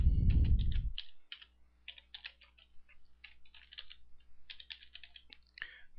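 Typing on a computer keyboard, a quiet run of light clicking keystrokes in irregular bursts close by, following a brief louder thump at the start.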